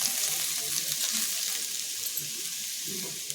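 Beetroot pieces with curry leaves frying in a pan give off a steady, moderate sizzle with faint stirring, continuous and close with no talking.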